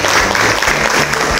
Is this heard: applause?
yes